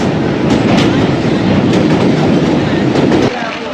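A Pak Business Express passenger train crosses the Mehran Bridge over the Indus River at night, its wheels rattling loud and close in a steady rolling roar with faint clickety-clack, before the noise drops off abruptly near the end.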